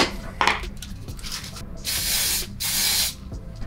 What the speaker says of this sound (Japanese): これでまあ最後スプレーしていきたいと思います。